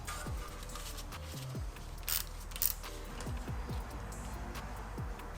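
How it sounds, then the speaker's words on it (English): An H6 hex bit backs out the brake rotor set screw on a BMW with a few short creaking, ratcheting turns, close and fairly quiet against a steady low hum. "we'll now use our H6 hex bit once again to remove the set screw"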